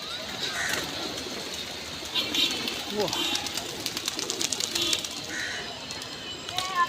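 Pigeons around the Santosh Mitra Square Durga Puja pandal in Kolkata give soft, repeated coos and flutters, heard close and intermittently beneath people talking.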